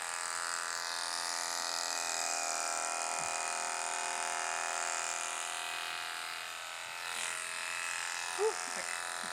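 Electric clippers, freshly oiled with the blade tension adjusted, run with a steady high buzzing drone that dips briefly and then resumes, and a voice comes in faintly near the end.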